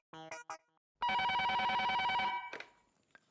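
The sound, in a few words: telephone ringing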